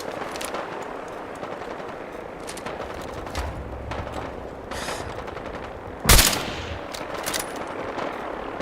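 Gunfire from a video game battle: dense, continuous distant shooting throughout, with one louder close shot or burst standing out near the middle.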